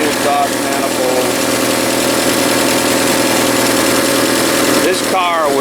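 Loud, close idle of a 1982 Chevrolet Camaro third-gen engine running on a fuel cell just after its first start in twenty years, a steady rough drone with faint voices and a brief change in tone near the end.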